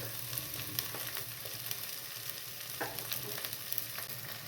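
Onions frying in a pot for tomato soup, a continuous soft sizzle broken by occasional sharper crackles and stirring scrapes, close and fairly quiet with no voices.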